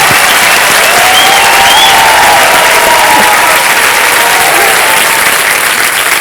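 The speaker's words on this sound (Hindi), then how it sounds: "जोरदार तालियां।" Loud, dense applause from a TV game show studio audience on Kaun Banega Crorepati fills the whole stretch, steady and close, with faint voices mixed in underneath.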